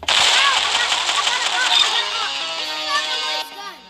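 Video game gunfire in Arsenal, a dense rapid rattle of shots with sharp electronic chirps, loud at first and fading toward the end.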